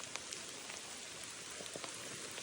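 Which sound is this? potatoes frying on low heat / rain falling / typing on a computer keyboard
rain falling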